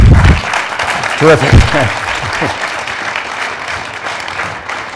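An audience applauding after a panel discussion on North Korea's nuclear program, a broad wash of clapping that fades slowly while someone speaks briefly over it.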